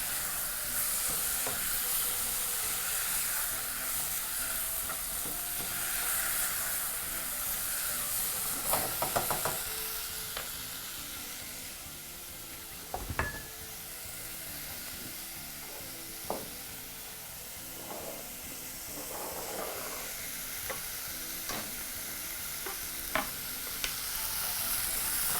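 A beef casserole mixture is stirred in a pot over a steady sizzle and steam hiss, with scattered scrapes and clunks of the spoon; no one speaks.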